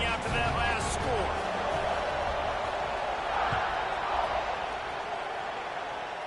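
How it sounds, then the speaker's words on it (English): A stadium crowd buzzes in the College Football 26 video game, a dense continuous roar holding steady at an even level, with a few brief thumps early on. "this crowd is buzzing after that last score"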